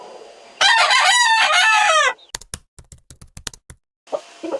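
A rooster, one of a father's fighting cocks, crows once loudly and close, then a rapid series of sharp clicking taps follows before a brief noise returns.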